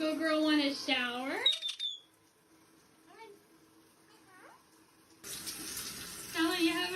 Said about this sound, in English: Does the good girl want a shower?